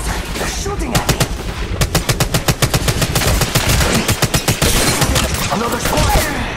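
Sustained gunfire in the mobile battle royale Apex Legends Mobile: dense, rapid automatic bursts from close and mid range overlapping continuously, loud throughout with distinct rhythmic shot clusters.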